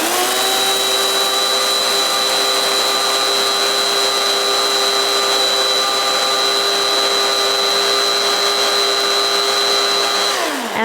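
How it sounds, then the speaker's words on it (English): A coffee bean grinder whirs steadily through flaxseed, a loud, constant high-pitched motor whine that holds for about ten seconds before spinning down abruptly at the end. "It's a coffee bean grinder, really, but it works amazing"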